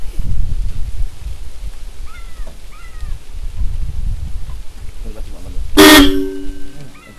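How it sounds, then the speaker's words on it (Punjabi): Pressure horns fitted to a modified Formtrac 60 tractor give one short, loud, blaring blast near the end, following a few faint chirps, over outdoor rumble and background noise. "ਤੁਸੀਂ ਹਾਰਨ ਸੁਣਿਆ, ਬਹੁਤ ਜ਼ਿਆਦਾ ਆਵਾਜ਼ ਆ, ਬਹੁਤ ਜ਼ਿਆਦਾ ਹਾਰਨ ਦੀ ਆਵਾਜ਼ ਆ।"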